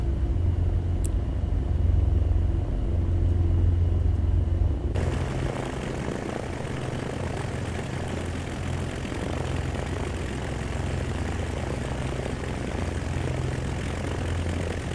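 A default aircraft's engine in the X-Plane 12 flight simulator drones steadily, with a low propeller rumble that swells into a broader, louder roar partway through and then holds, with no talking.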